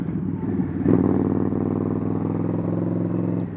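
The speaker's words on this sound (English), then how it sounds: "I'm talking about the exhaust on this bike, the RCX 3-inch slash cut exhaust" A Harley-Davidson motorcycle with an RCX 3-inch slash-cut exhaust idles and revs with a deep, rumbling exhaust note, steady and loud, with a brief throttle blip near the start.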